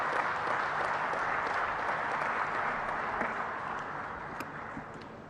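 A crowd at the Delhi-Mumbai Expressway foundation-stone ceremony applauds steadily to welcome the Prime Minister, a dense even clapping that tapers slightly toward the end.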